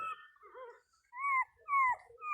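Newborn puppies found in a bread oven whimper and squeal close by, several thin, rising cries in short bursts separated by brief silences.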